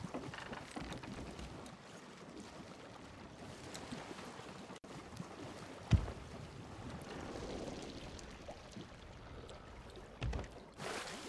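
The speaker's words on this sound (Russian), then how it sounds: "А где вода течет?" In the pirate game Sea of Thieves, seawater gushes into a damaged ship's hull, a continuous rushing pour mixed with lapping waves, creaking wood and occasional thumps.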